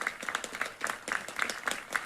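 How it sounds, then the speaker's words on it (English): Baseball crowd at a college game between CSUN Matadors and Oklahoma Sooners clapping in a steady, rhythmic beat to rally their closer, moderately distant, about eight claps in quick succession with faint voices in the stands. "Crowd trying to help their closer."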